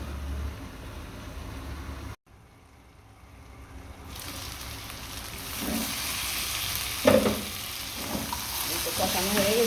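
A spiced breakfast dish sautés in a pan. A low background gives way, after a short silent gap, to a rising close sizzle joined by scattered clinks of a stirring utensil, with no voices.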